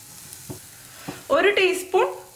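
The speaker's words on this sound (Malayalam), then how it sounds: "പിന്നെ ഒരു മൂന്നാല് കറിവേപ്പില പിന്നെ രണ്ട് പച്ചമുളക് ഇതിലേക്ക് ഇട്ട് കൊടുക്കാം" Curry leaves and a large green chili dropped into hot oil in a pan, a few light taps followed by sharp bursts of loud crackling sizzle, close up and without voices.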